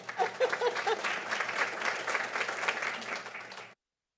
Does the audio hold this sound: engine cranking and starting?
no